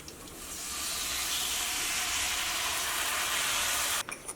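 Cooked plantain goes into a hot pan and is stirred, giving a loud, continuous sizzle that swells in the first second and holds steady, then ends in a few soft clatters.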